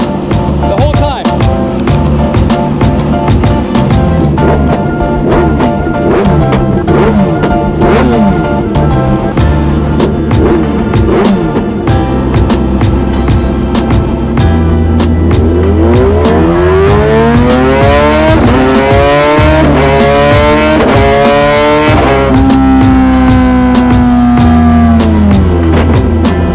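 A 2025 Kawasaki ZX-6R with a cheap aftermarket exhaust runs fifth-gear pulls on a dyno, its loud, continuous engine note climbing and falling through long rev sweeps with no pause.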